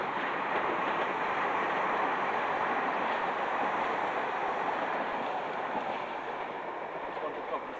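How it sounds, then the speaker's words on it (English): A train rolls past close to a housing estate near Kings Cross, making a loud, continuous rushing rumble that holds steady throughout and fades slightly at the end. "It's one of the problems of living on this estate, is you always got the trains."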